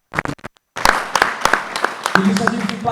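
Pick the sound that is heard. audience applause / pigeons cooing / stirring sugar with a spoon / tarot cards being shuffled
audience applause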